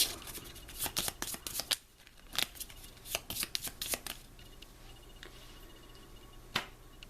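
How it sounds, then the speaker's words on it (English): A discard pile of playing cards from a Legendary Encounters: The X-Files deck-building game gets shuffled, a quick run of crisp riffling bursts and snaps, close and clear, trailing off into quiet. "I only have 2 cards left, so I shuffle my discard pile."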